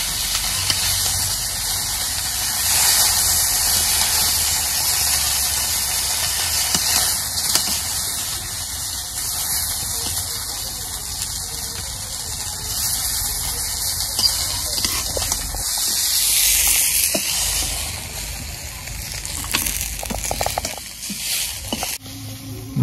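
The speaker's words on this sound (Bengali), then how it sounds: "এই দেখো সুন্দর করে আজকে মাছ ভাজা নিচ্ছি" Large boal fish frying in a pan, giving a steady steam-like hiss and sizzle that runs loud and continuous throughout, with occasional faint clicks near the end.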